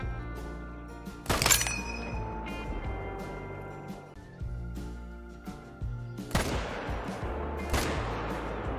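Rifle shots in the hunting video game Call of the Wild, three sharp loud blasts spaced a few seconds apart, each followed by a rolling echo, over a quiet outdoor ambience with little talk.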